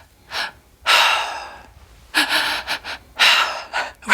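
A person imitates heavy, abnormal breathing with loud, ragged gasps and rasping inhales and exhales in uneven bursts separated by brief pauses, close and alone.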